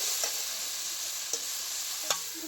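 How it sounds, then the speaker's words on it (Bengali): Vegetables with turmeric fry in a pan, giving a constant close sizzle. Three brief scraping knocks from a spatula break in as the food is stirred. No speech. "সঙ্গে ভেজে নেব বোন দিয়ে আর একটুখানি হলুদ দিয়ে ভালো করে নেড়ে চেড়ে"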